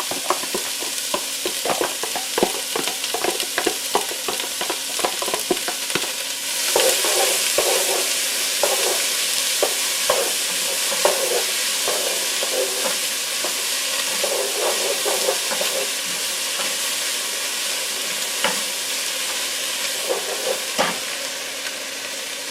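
Chopped vegetables hitting sausage grease in a hot pan for jambalaya, a loud close sizzle that swells into a steady hiss, with frequent clacks and scrapes of stirring throughout.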